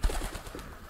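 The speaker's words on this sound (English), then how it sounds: "Nah, not the birds, mate." Pigeons coo in the video game Alone in the Dark, a brief soft low cooing burst that is faint and close.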